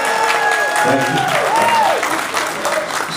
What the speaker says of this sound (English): 7 of you clapped there.